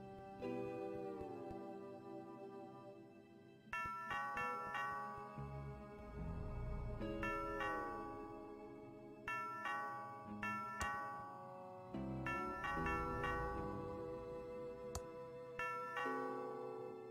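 A doorbell rings in Thimbleweed Park, its chiming tones sounding several times in separate bursts, quiet and clear, with no voices over it.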